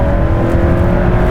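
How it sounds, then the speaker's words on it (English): A 2022 Hyundai Santa Cruz accelerates hard as its turbo kicks in, the engine holding a loud, steady, close-up drone with a faint whir on top. "Turbo finally kicks in."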